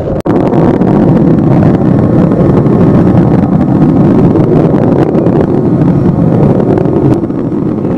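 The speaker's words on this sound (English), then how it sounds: "Engines now revving up, standing by for the throttle up call." Loud, continuous low roar of space shuttle Atlantis main engines revving toward throttle up, broad and rumbling, holding steady without breaks for several seconds.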